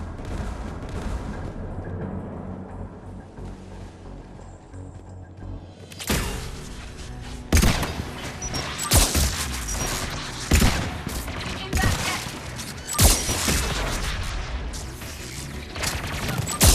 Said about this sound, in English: There! The guns protecting the tower!